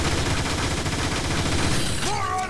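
Dense, continuous sniper and weapon fire from the video game Transformers: War for Cybertron, loud rapid shots throughout with a rising synthetic effect at the end.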